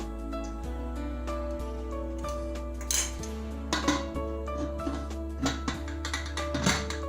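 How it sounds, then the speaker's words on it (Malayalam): A lentil and spinach curry mixture stirred in a pressure cooker, with a spoon clinking and scraping against the metal pot in irregular taps, quiet at first and then busier, over a low background hum. "ഇതെല്ലാം കൂടെ ഒന്ന് മിക്സ് ചെയ്തെടുക്കാം."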